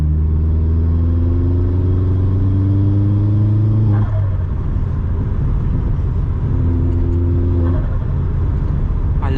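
Vauxhall Astra VXR engine on a night drive, heard from inside the car. It revs up in a rising, harmonic-rich drone, drops away, then climbs through a second shorter rev, loud and close.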